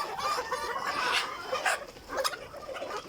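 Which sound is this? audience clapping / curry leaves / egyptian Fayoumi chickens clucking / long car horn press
egyptian Fayoumi chickens clucking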